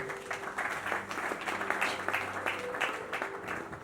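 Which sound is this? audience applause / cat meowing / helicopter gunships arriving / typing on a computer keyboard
audience applause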